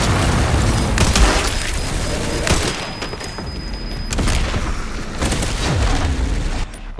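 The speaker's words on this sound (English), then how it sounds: "Who's shooting me?" Gunfire in the game Resident Evil Requiem: repeated booming shots and thuds over a dense, noisy battle background, fairly loud and steady throughout.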